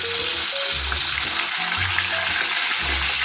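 Fish frying in oil in a home kitchen, a loud, steady crackling sizzle that runs without a break, close up, with low muffled knocks underneath and no voices.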